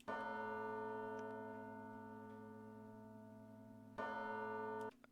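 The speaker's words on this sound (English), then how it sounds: "I started it off by literally ripping the sample of bells straight from the track" Sampled church-bell tones from a track: a sustained, ringing bell chord that slowly decays, then strikes again sharply about four seconds in before cutting off.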